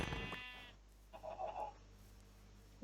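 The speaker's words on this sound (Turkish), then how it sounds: "Gel lan buraya. Koyun." A Minecraft sheep gives a short bleat, followed by a second fainter bleat a moment later, over quiet game background with no talking.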